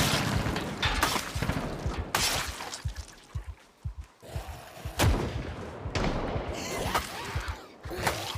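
Pistol grip shotgun blasts in the Project Zomboid video game: sharp, loud reports come at irregular intervals over a rough game background, with a few heavier booms mixed in.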